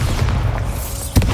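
A Bombarda spell explodes in Hogwarts Legacy: a deep booming blast rumbles throughout, and a sharp burst punches through near the end.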